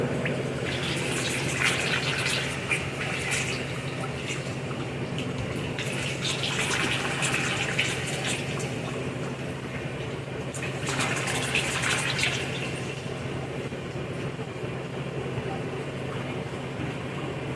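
Water rinses down a gold prospecting cleanup sluice in a steady gushing flow with a few louder surges, while people talk faintly beneath it.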